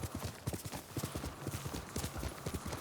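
Horse hooves clip-clopping in a video game, a brisk, steady rhythm of hoof strikes, close and clear throughout with little else around them.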